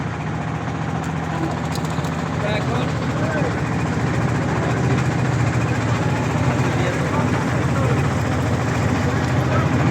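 A wooden boat's engine chugs with a steady, low rumble throughout a picnic boat trip near Ashulia, while people talk loudly over it.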